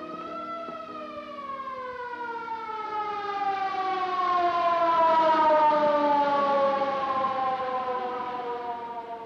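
A wailing ambulance siren from a film noir rises and slowly falls in a long, drawn-out tone. It grows louder toward the middle and holds steady, heard alone without voices.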